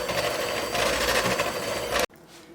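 An electric mixer beats flour into cake batter for a pistachio tres leches cake. The motor gives a steady, loud whir for about two seconds, then cuts off abruptly.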